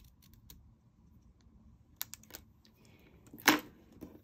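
Paper card bases being trimmed for handmade greeting cards, with a few sharp close cutting clicks and snips scattered between quiet stretches, the loudest near the end.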